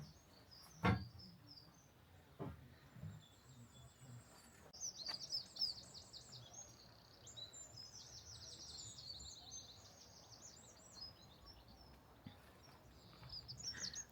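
Birds chirp and sing in the gardens of the Hinton Ampner estate, faint and distant, with scattered high calls over quiet outdoor ambience and a few soft thumps and rustles.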